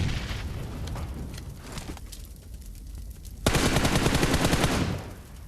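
Gunfire in the PUBG Mobile video game: scattered distant shots at first, then a loud, rapid automatic burst that lasts over a second before it cuts off.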